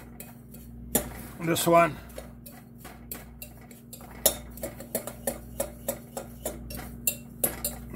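Chocolate cheesecake ingredients mixed in a bowl, with a burst of scraping early on, then a steady run of sharp spoon-on-bowl clinks at a regular pace, close by; a brief spoken remark is heard.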